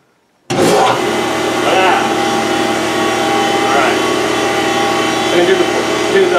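Rikon 12-210H jointer planer in jointer mode switches on abruptly and runs with a loud, steady motor roar and whirring cutter drone that holds continuously.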